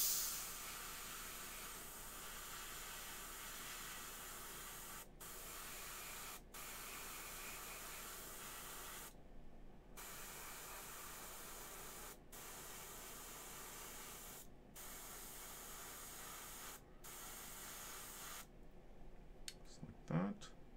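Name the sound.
airbrush spraying paint on a miniature figure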